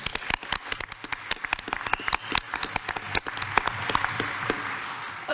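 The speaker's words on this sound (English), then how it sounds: "Let's get another round of applause." Audience applause at a school board meeting, a scattered patter of claps that builds into a fuller, denser round toward the end.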